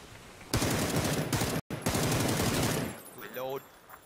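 Automatic gunfire in a video game shooter, a dense sustained burst lasting a couple of seconds with a brief gap partway through, followed by fainter game sounds.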